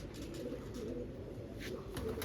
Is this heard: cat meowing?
no